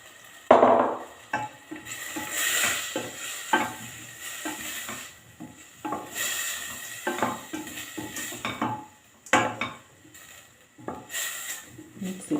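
Boiled meat stirred with spices in a cooking pot for Swahili Kenyan pilau: repeated scraping and clinking of a utensil against the pot in irregular strokes, with a soft sizzle underneath, close by.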